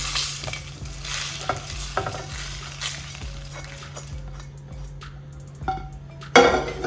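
Small shallots and roasted coriander seeds fry and sizzle in a pan, a continuous crackling hiss broken by stirring knocks and a louder clatter toward the end.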